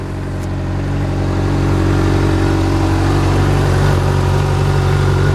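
A 2016 Honda CBR 600RR sport bike with 690 miles runs just after starting, its engine humming loud and close with a steady idle that rises slightly in level as it settles.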